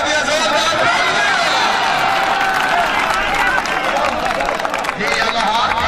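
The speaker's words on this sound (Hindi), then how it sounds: "ऐसे वक्त जोरदार तालियां, जोरदार तालियां जी।" Outdoor crowd at a kabaddi match applauding loudly and continuously, dense clapping and cheering mixed with shouting and babble throughout, steady and close.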